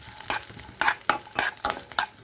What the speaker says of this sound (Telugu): చక్కగా ఇలా నేతిలో వేయించి పెట్టేసుకోండి.